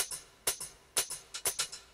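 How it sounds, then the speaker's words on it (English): Three layered hi-hats in an electronic dance track, two of them panned left and right, ticking in a crisp syncopated groove of short bright hits, isolated and clean. "Those are the two extra hi-hats, slightly panned on the left and right to get a nice stereo field."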